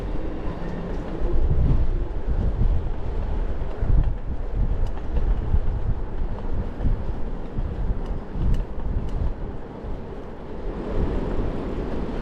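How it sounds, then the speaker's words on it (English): A train rumbles past at a distance near Leeds, a steady low roar that swells and fades, with some wind buffeting the microphone. "I can hear trains"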